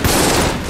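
Enemy gunfire in the bullet-hell dungeon game Enter the Gungeon: a dense, rapid fusillade of shots, loud and continuous for under a second.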